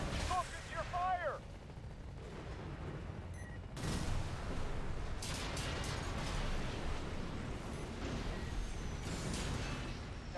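Gunfire from mech combat in Armored Core VI: bursts of sharp shots and heavy impacts start after a short stretch of voice and then keep up densely for several seconds, loud and near.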